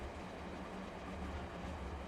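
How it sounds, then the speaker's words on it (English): Train riding toward Ueno Station in the Cartagra video game, a low steady rumble of the carriage, soft and continuous, with no voices. "My train's headed toward Ueno Station."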